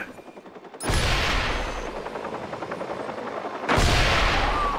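Heavy gunfire bursts and a helicopter's rotor thrum fill a Watch Dogs game scene, loud and sustained, with a sharp onset and a second surge near the end.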